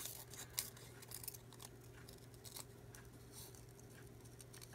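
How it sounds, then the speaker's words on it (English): Small craft scissors fussy-cut paper fan and flower shapes for a kimono embellishment: soft, faint snips and paper rustles over a low steady background hum. "I'm going to cut out one of these fans, and I'm going to cut the flowers off of the fans."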